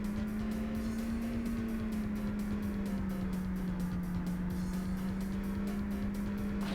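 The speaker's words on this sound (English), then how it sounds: "initiating the drift and then just basically letting off the steering and allowing the car to autocorrect" A car drifting in the arcade racing game Initial D: Koudou Saisoku Densetsu gives a sustained engine drone that holds steady and dips slightly in pitch, under a constant layer of road and tyre noise, with no talking.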